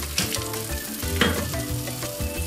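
Banana pieces dropped into melted butter in a frying pan, setting off a steady close sizzle with soft clatter of fruit landing and shifting in the pan.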